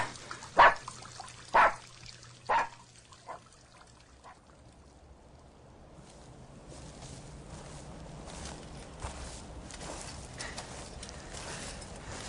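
Three sharp barks from a dog ring out about a second apart, followed by steady trickling water that grows a little louder.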